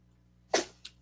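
A single sharp sneeze bursts out at close range, fairly loud, trailing off and followed by a smaller secondary burst, over a quiet low hum and with no talk around it.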